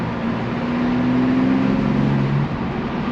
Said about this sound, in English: my intake sounds so good right now